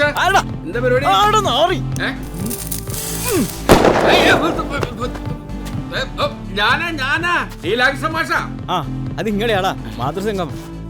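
Bursts of firecrackers crackle and bang amid excited, overlapping voices, with one loud blast standing out in the middle.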